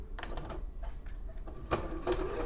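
A sewing machine stitches an inch-and-a-quarter seam in fabric for a wine bottle gift bag. Its short bursts of close mechanical whirring and clatter are separated by brief pauses.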